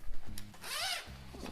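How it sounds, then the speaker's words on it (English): A zipper on an Alpaka Shift Pack bag is pulled in one smooth, close rasping stroke lasting about half a second, with a few faint handling rubs before and after. "And it has a zipper"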